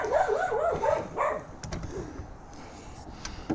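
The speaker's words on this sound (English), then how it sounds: "Don't mind the dogs. They do bark periodically" Small dog yapping and barking indoors, several high excited barks and yips clustered at the start, then quieter scattered sounds trailing off.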